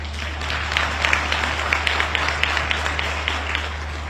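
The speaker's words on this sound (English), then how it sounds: "I think we ought to applaud them better than that." Audience at an ANC conference applauding, a dense, even round of clapping from a large hall with a constant low hum underneath and no speech.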